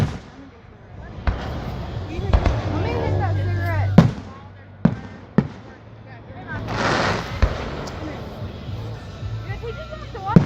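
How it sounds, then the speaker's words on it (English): Fireworks burst outdoors at a fireworks display, with about seven sharp, loud bangs at irregular intervals, some close and crisp, over steady background noise while people talk and chatter nearby. "We just have to watch the fireworks."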